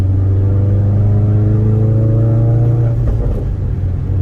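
A 2016 Ford Focus RS accelerates through the gears from inside the cabin, its engine droning loud and close with rising pitch, then a brief dip as it shifts, with no talking.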